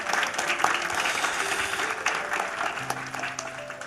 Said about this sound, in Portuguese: E eu te convido a uma salva de palmas pelo Vida e Missão